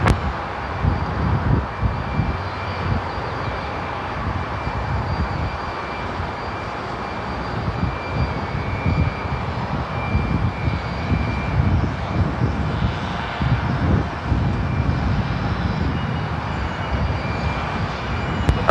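Airliner engines roar at Seattle-Tacoma International Airport, a continuous broad rumble that swells and fades gently as aircraft move nearby, heard without speech for the whole stretch.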